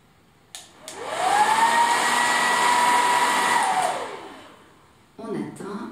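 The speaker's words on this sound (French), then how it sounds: "je mets mon sèche-cheveux à la distance d'une main" A hair dryer held a hand's width away switches on with a rising whine, blows steadily for a few seconds, then winds down; a brief rustle follows after it stops.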